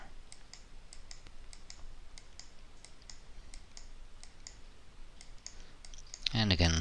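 A computer mouse clicks repeatedly while modeling in Cinema 4D R9.6: a run of crisp, evenly spaced clicks up close, with a brief burst of other noise at the end.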